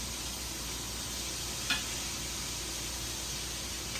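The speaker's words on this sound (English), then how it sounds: "Throw our onions in. The pot is not super hot right now." Onions gently cooking in oil in a pot that is not yet very hot, a steady soft sizzle throughout with one brief clink partway through, no talking.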